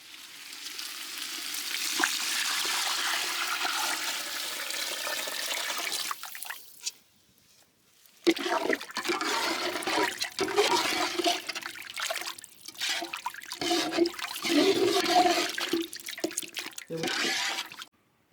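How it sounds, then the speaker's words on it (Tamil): Water poured into a cooking pot while preparing Arabian-style chicken mandi biryani in a village kitchen, a steady rushing splash lasting several seconds, then a pause followed by stirring and bubbling sounds. "இப்போ வந்து தண்ணி ஆட் பண்ணிக்கலாம்."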